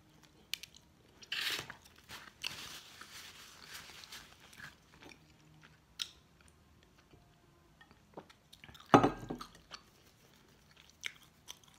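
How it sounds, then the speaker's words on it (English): Someone bites into and chews pizza up close: scattered soft crunches and moist chewing sounds, with one sharp louder bite partway through, between quiet pauses and no speech. "While I'm munching this pizza."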